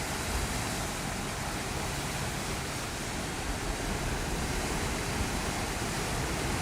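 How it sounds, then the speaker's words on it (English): Sea waves wash steadily at a Sydney rock pool near Long Reef in the early morning, a constant broad hiss of surf with no distinct breaks, fairly faint. "Sound of the sea is magical"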